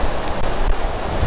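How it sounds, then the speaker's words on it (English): Storm waves crashing on the shore near a lighthouse, a steady loud roar of surf and wind noise filling the clip without pause. "I want to be able to catch the power in those waves out there"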